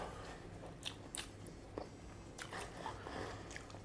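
Prawns in white pepper with glass noodles being eaten up close: soft, quiet bites and chewing with a few sharper crunchy clicks over faint background hiss.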